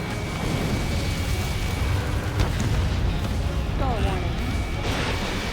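A downed UAV exploding in the Ace Combat 7 flight game, a dull boom buried in a constant loud roar of jet engine noise, with radio chatter over it.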